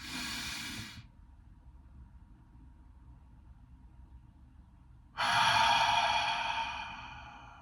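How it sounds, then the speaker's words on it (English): Slow, deep breaths from a guided breathing exercise: a loud airy exhale fades out, a long quiet hold follows, then another strong, rushing breath swells up close to the mic. "One more big breath in."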